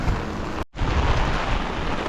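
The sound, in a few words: rain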